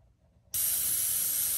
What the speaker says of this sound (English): to an airbrush spraying